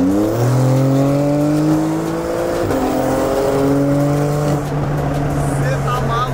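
A Porsche 922 sports car on new tyres drives hard, its engine droning loudly and steadily as the pitch climbs through gears with a shift midway. Road and wind noise sit underneath, close and continuous.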